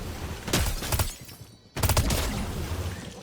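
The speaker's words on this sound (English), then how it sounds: "Shoot some grenades, kill those guys" Grenade launcher fire in Fortnite, two loud bursts of booming shots separated by a short quiet gap, each with a sharp crack followed by a rumbling blast.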